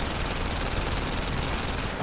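Sustained rapid gunfire in PlayStation VR Worlds, a dense, loud, continuous rattle of shots that fills the whole moment without pause, close and overwhelming, with no talk audible.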